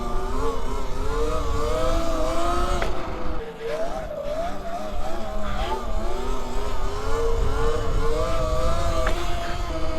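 E-Ride Pro SS 2.0 electric motorcycle lifting into a wheelie, a steady loud motor whine rising and falling in pitch with throttle for about ten seconds, briefly easing off midway before surging again.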